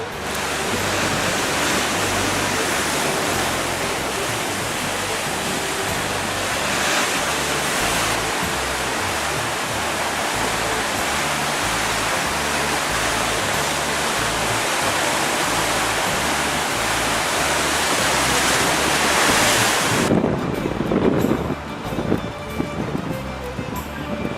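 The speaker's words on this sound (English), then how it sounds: "we're right on the coast now, looking at the old fortress protecting the original harbour, and the waves today are quite full" Full waves break and roll continuously against the coast beside the old harbour fortress at Heraklion, Crete, a loud dense roar with wind buffeting the microphone, cutting off near the end.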